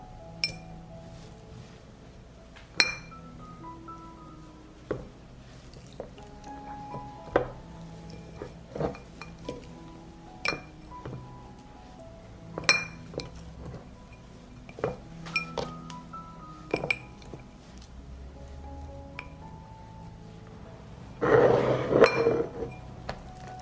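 Glass jars clink sharply as pieces of cut pork belly go in, a steady run of separate knocks and taps at close range, ending in a louder cluster of clattering contacts.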